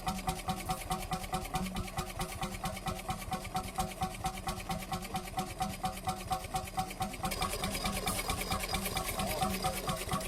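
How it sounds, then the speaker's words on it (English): The little Skagen, a vintage Danish crude oil engine, runs with a fast, even mechanical chugging, a steady train of rhythmic beats at moderate distance and fairly quiet, with no voices. "hear the distinctive sound of a vintage crude oil engine in action"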